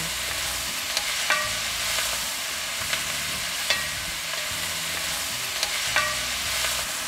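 Bell peppers sweat in a hot pan with caramelized pork juices, a steady sizzle with periodic spatula scrapes and stirring taps, close and alone.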